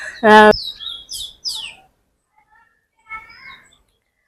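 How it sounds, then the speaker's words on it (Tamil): Sparrows chirp in a rooftop vegetable garden: one loud, close chirp, then several quicker calls, and a few fainter chirps further off after a quiet gap. "நல்லா குருவி வந்து நல்லா கத்துறதும்"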